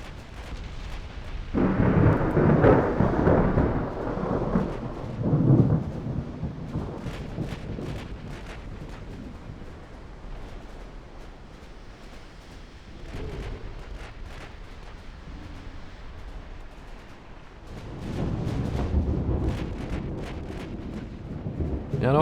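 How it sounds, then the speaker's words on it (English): Heavy booming explosions as torpedoes strike ships in a naval battle in Ultimate Admiral Dreadnoughts, deep rumbling blasts coming in waves with quieter scattered gunfire between them. "And my torpedoes are hitting."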